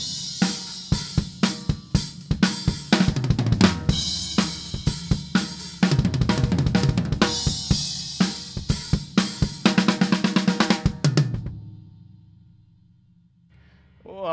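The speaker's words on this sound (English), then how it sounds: "you're playing a straightforward beat, and then jump into a triplet fill" Drum kit playing a straightforward beat into a triplet fill, a loud, close run of rapid hits on drums and cymbals that ends and leaves a fading cymbal ring.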